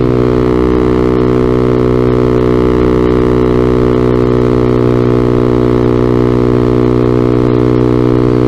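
Vader ZS190 Honda Grom clone motorcycle with a freshly installed engine, ridden gently, giving a loud, steady engine drone with constant tone and no speech.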